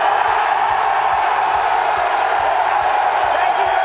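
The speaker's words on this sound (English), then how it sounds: "It sounds like they're cheering on the gladiator, and perhaps they are." Studio audience cheering and whooping for a gladiator, a dense steady crowd roar that stays loud and unbroken throughout.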